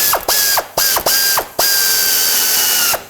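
Quick bursts of ratchet clicking while a wrench tightens front sway bar bolts on a 2007-2009 Saturn Aura, close and loud, with short pauses between strokes and a longer final run.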